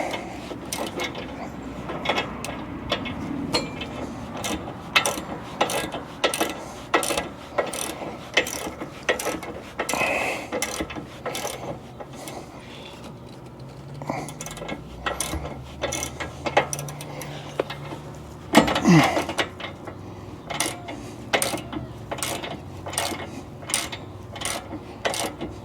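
A wrench works a bolt on the steering of a lifted Jeep Gladiator during a high steer kit install, giving repeated ratchet-like clicks in quick bursts, close and fairly loud, with a brief louder clatter partway through.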